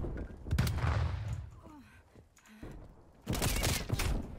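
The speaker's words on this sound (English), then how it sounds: "Stun grenade out." A stun grenade going off in Call of Duty: Black Ops Cold War, with loud broadband bursts at the start and end separated by a quieter stretch that holds faint tones, all fairly close.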